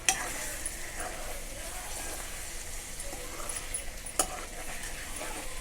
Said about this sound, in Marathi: तर अधूनमधून असं छान असं मिक्स करून घ्यायचं आहे